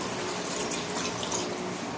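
Water pours steadily into a cooking pot holding vinegar for Filipino paksiw, a continuous close hissing splash with no voices.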